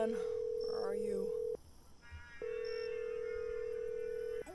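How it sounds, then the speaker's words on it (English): A phone call being dialed: a steady dial tone, a short run of keypad tones, then the dial tone resumes and holds clearly and loudly to the end. "I should have enough power to at least make one phone call."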